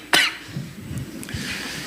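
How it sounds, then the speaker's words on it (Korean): A single sharp cough up close, followed by a quieter murmur and a second, fainter cough farther off in a large church sanctuary during a Sunday sermon. "뭘 이렇게 기침하는 사람들이 많아요"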